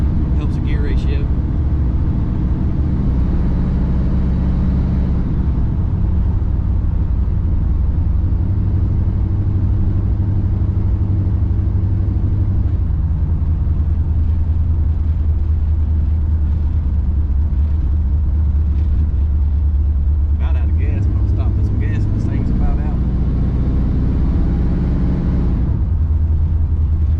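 An Oldsmobile Cutlass on 24-inch rims with a 3-speed transmission cruises steadily, a continuous low engine and road rumble filling the cabin, with people talking over it throughout.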